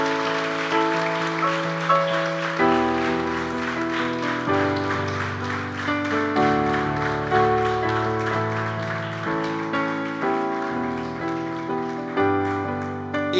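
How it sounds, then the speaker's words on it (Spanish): A church congregation claps during a worship service, a steady wash of applause blended with sustained music chords that play throughout. "Dale fuerte el aplauso al Señor."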